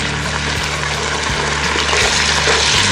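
Stew bubbles in a Dutch oven over a campfire, giving a continuous wet burbling and gurgling with a steady liquid hiss heard close up and on its own.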